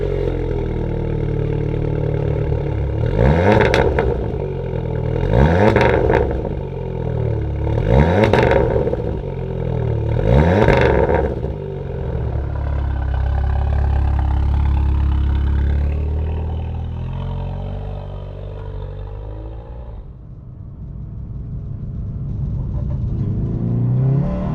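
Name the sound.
Seat Leon Cupra 290 engine revving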